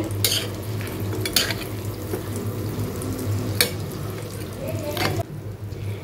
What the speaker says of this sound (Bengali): আর এদিকে আমার চিকেনটা হচ্ছে